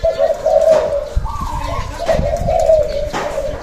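Dove cooing, a low repeated coo phrase sounding twice, fairly close, with faint rustling and background noise.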